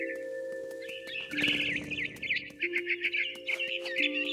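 Electronic bird chirps and tweets from the game What Remains of Edith Finch repeat in quick bursts over a steady synthetic tone.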